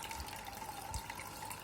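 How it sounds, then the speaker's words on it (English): Steady running water splashing from a SOBO WP-308H slim hang-on-back aquarium filter's waterfall outlet, a close, continuous trickling wash with no voices. "if you fill your tank all the way up to this waterfall, the noise will decrease significantly"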